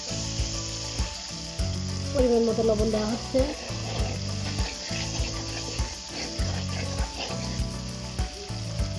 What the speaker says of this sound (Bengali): পেঁয়াজ আর কাঁচা জাল দিয়ে দিলাম ঝাল অনুযায়ী, ভালো করে ভেজে নেব